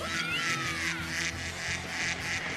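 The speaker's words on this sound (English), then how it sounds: "It was ducks flying by. The ducks started quacking." Ducks quack in a cartoon scene as they fly past, a busy run of nasal calls over a steady dense background that stays fairly loud throughout.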